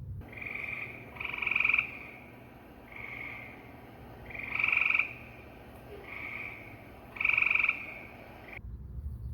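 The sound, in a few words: gray tree frog calling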